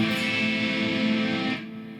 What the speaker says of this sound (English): So here is a minor A,